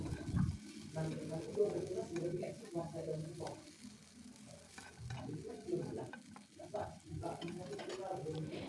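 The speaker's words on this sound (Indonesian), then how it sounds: "Ini bersama-sama semua bahannya kita sangrai atau kita panggang biar nanti aroma sambal pecahnya tuh lebih sedap." Sambal ingredients with shrimp paste dry-roasting in a pan give a soft, close sizzle with repeated scraping and stirring clatter, heard under someone talking.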